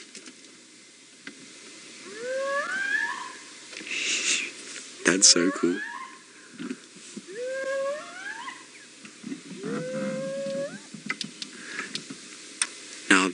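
A spotted hyena cub at a den gives high-pitched, short rising whoop calls, repeated several times at moderate distance over soft background noise, with a person briefly speaking.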